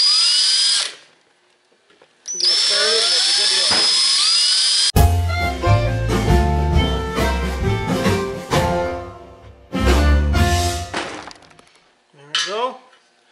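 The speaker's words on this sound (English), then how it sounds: "I have my step drill with some tape on there so I don't drill past their 3/4 inch size hole is what we want to drill." A step drill cuts a 3/4 inch hole in metal to fit an O2 sensor bung for a Holley Sniper EFI system. Loud, shrill grinding bursts come close up, separated by short pauses, with no talking.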